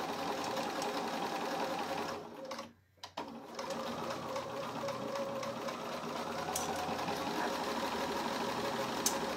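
A sewing machine runs steadily with a size 90 needle through thin fabric, a close continuous mechanical whir that pauses briefly, then resumes stitching to the end.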